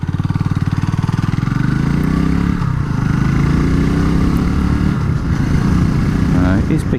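A Honda CB250RS motorcycle on the move, its engine a steady, loud, close drone with a firm pulsing rhythm throughout, captured on an action-camera mic, with wind and a voice talking over it.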